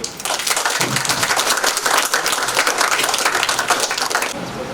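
Listeners at a student session clap in a busy, continuous patter that stays at an even level, then stops abruptly near the end.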